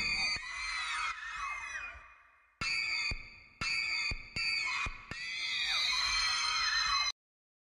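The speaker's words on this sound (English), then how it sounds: "it sounds like people screaming or maybe kids screaming, but it's coming from a monster" A monster character from the Void mod of the Incredibox music game lets out harsh, shrill screaming that sounds like people or children, in loud bursts broken by abrupt cuts before stopping suddenly.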